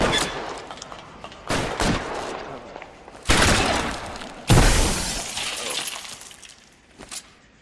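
Gunfire from the L.A. Noire video game, with several sharp, loud bursts spread irregularly, some ringing out into a longer noisy decay, mixed with faint game ambience.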